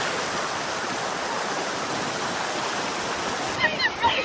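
Small waterfalls and a flowing stream at Amboli, a cool hill spot in Konkan, give a loud, steady rushing roar throughout, with a few brief louder splashes or sounds near the end.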